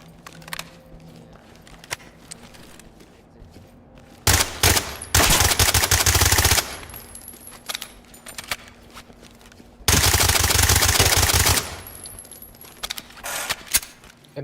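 An SPC9 gun fires in a video game in two loud, sustained bursts of rapid shots, each lasting about two seconds, with quieter game sounds in between.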